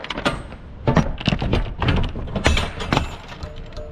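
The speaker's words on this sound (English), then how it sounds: "So we open these doors." Heavy metal truck trailer doors clank and thump open up close, with a series of rattling latches and bangs, no voices.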